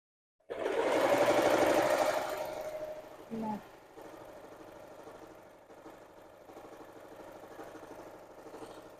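A small tailoring sewing machine runs in a steady, close mechanical whir that is loud at the start, then settles into a quieter continuous hum with a brief bump partway through.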